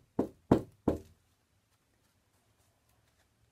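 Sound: knock at a door

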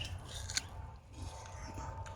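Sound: biting and chewing water apple fruit

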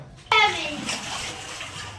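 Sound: rainwater flooding into a house during heavy rain

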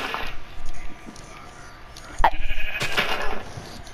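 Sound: sheep bleating in Minecraft video game

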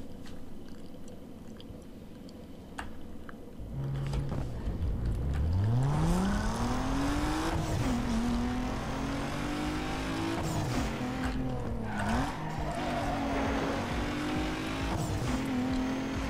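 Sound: Audi TT race car accelerating in video game Need for Speed Underground 2

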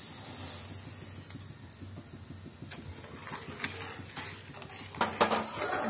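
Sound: stirring coconut barfi mixture with a spoon in a pan

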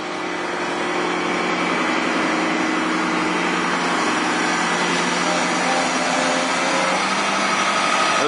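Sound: gas-powered water pumps running at a culvert dam

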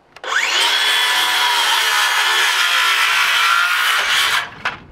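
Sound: saw cutting through a wooden floor truss

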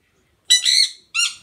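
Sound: pet bird squawking on a video call

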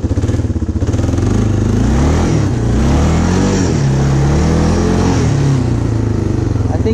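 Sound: Kawasaki Bayou 300 ATV engine while driving

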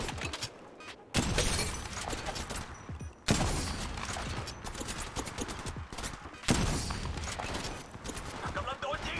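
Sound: gunfire in video game Apex Legends Mobile

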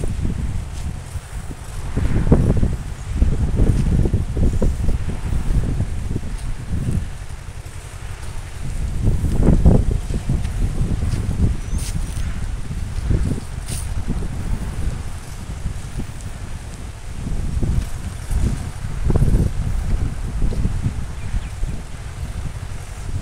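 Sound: tractor ploughing a banana farm

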